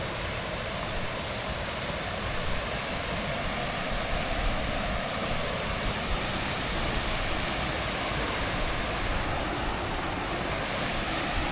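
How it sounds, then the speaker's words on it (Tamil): Loud, continuous rushing of the fast-flowing Kaveri River fills the clip, a dense, unbroken roar close by with no voices. "தண்ணியோட ஃப்ளோவை பாருங்க எப்படி இருக்குன்னு."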